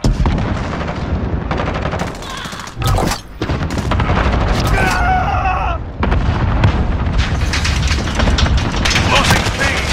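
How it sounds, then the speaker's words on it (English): Cluster strike explosions in a video game at Objective C in Ground War, a loud, dense barrage of booms and rattling gunfire that runs almost continuously, broken by a brief lull, with game voice callouts mixed in. "Allied cluster strike inbound."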